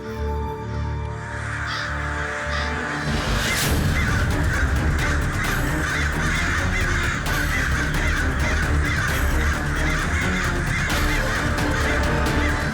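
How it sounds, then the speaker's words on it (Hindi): A flock of crows cawing as they fly overhead, dense overlapping harsh calls filling the whole stretch, loud and continuous with no speech. "ये कौवे एक ही साथ कहाँ जा रहे हैं?"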